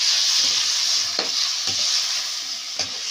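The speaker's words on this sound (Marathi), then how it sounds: "बटाटे स्वच्छ धुवून घेतल्यानंतर आता कढईमध्ये टाकलेले आहे" Oil sizzles steadily in a wok as washed potatoes fry, with a few scraping stirs, close up and with no talking.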